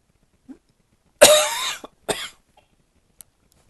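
A person with laryngitis coughs in a harsh, close burst, then gives a second shorter cough, with quiet gaps before and after.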